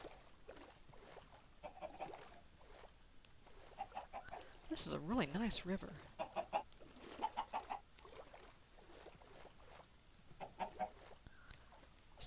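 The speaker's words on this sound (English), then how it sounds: "Hey, chickens." Chickens cluck in a modded Minecraft world, with short bursts of clucking spread through the clip and a louder flurry near the middle, under a voice talking.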